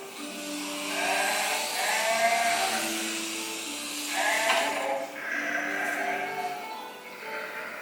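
Sheep bleating in the countryside near Dingle, Ireland, several wavering, drawn-out bleats overlapping one another at moderate distance across the whole stretch.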